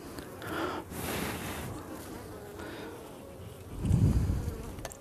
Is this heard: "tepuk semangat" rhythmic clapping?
no